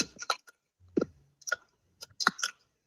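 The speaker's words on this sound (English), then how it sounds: "I could hear him chewing gum." Gum chewing heard over a phone call, coming as a few separate moist smacking clicks spread across a few seconds, with quiet gaps in between and no talking.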